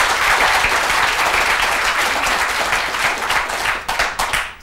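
Studio audience applause at a 1979 televised trade union debate, a dense sustained clapping from a crowd that thins into scattered claps at the end.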